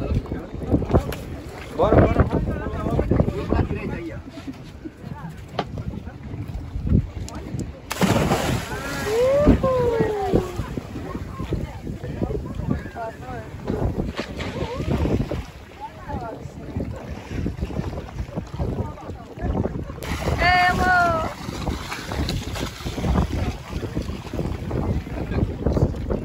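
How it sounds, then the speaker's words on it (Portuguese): A speedboat runs across the open sea near Praia dos Golfinhos in Pipa, giving a steady engine drone mixed with wind buffeting the microphone and splashing water, while people talk and call out over it. "Curtindo a lancha."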